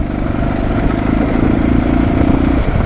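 A dirt-race motorcycle on a track in Pokhara, its engine droning loud and close at a steady, slightly rising pitch for the whole stretch, alone without talk.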